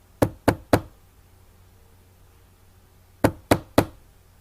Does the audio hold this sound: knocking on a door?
yes